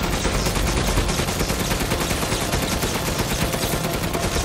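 Rapid, dense gunfire from a max-level magnum in the video game Resident Evil Village during a boss fight, loud and sustained with shots blurring into a continuous barrage and no talk over it.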